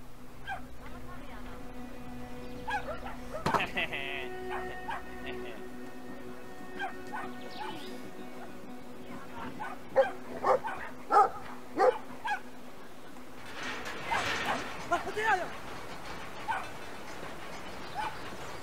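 A small dog in the game Brothers: A Tale of Two Sons gives a series of sharp yips and barks with some whimpering, bursts spaced irregularly over a quiet ambient bed, with a voice speaking over it.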